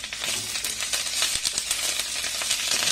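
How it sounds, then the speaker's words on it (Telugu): Curry leaves crackle and sizzle in hot oil in a pan, a dense close fizzing with scattered sharp pops throughout. "ఆయిల్ వేడైంది, ఇప్పుడు ఈ ఆకు ఇందులో వేసుకుందాము."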